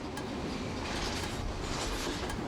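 A train runs along rails, giving a steady, dense rumble and rolling noise throughout, heard alone with no voices.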